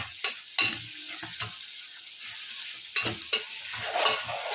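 Goat tripe (boti) frying with ginger paste for Andhra-style gongura boti, a steady close sizzle broken by several clattering stirs and scrapes of a utensil in the pan.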